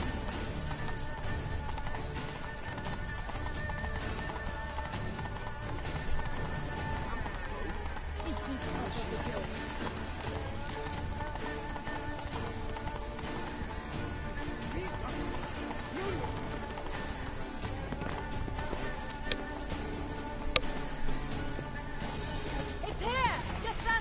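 A horse galloping in The Witcher 3, rapid rhythmic hoofbeats running continuously under game music and ambience, with someone talking over much of it.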